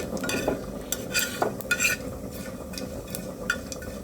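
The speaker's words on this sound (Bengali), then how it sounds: "কয়েকটা গোটা জিরে দিয়ে দিলাম এটাও একটু ভেজে নেব" Whole cumin seeds and a small piece of bay leaf frying in hot oil, a continuous crackling sizzle broken by spatula clicks and stirring scrapes, close and steady.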